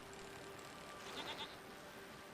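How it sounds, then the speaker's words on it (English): Goats bleat briefly in a video game, a short faint cluster of calls over a steady hiss of game ambience, with no voices. "Goats."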